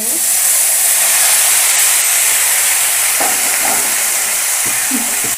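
Boiled taro leaves tipped into hot oil with fried green chillies: a loud, steady, close hissing sizzle that fills the whole stretch, with faint stirring knocks near the end.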